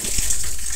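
Water gushing steadily into a cooking pot to boil potatoes, a loud, close, continuous splashing pour lasting under a second with no talk.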